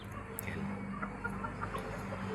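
Chickens on a backyard farm, including an Easter Egger hen and a large Belgian rooster, cluck softly in scattered short calls over a steady outdoor background hum.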